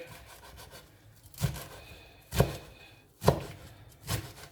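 Knife dicing parsley, mint and basil by hand on a board, four separate chops at a slow, uneven pace, close and crisp with quiet gaps between them.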